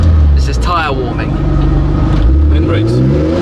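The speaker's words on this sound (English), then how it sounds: "This is tyre warming." A Kline Fenyr SuperSport built in Dubai weaves to warm its tyres at a hill climb, its engine droning loud and close with rising and falling pitch while a person talks over it.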